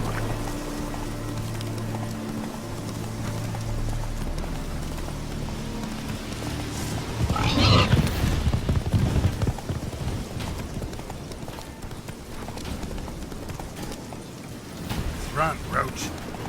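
Roach, a horse in The Witcher 3, gallops with rapid, continuous hoofbeats, loud and close, surging in the middle amid game ambience.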